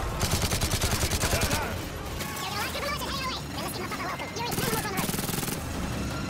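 Rapid automatic gunfire in Modern Warfare 3 starts as a fast rattling burst, then continues in sporadic volleys under excited shouting players, loud and close.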